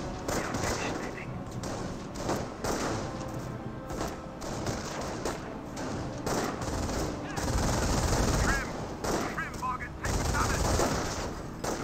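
Company of Heroes battle gunfire: dense, continuous bursts of rifle and machine-gun fire with scattered louder reports, layered thickly over game background noise throughout.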